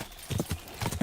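Hooves of a horse in the video game Kingdom Come: Deliverance II clip-clop in a quick, uneven rhythm of several close, distinct thuds.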